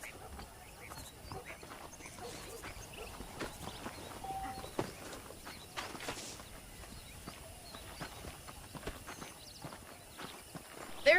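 Horse hooves clip-clop at a steady walking pace in the Western video game Red Dead Redemption, a string of light, fairly close knocks under low background ambience, with a voice talking over them.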